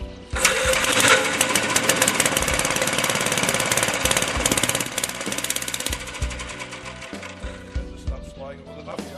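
A 1960 Gravely LI walk-behind tractor engine, restarted after 20 years, clatters and chugs loudly and continuously with a dense mechanical rattle, close to the microphone.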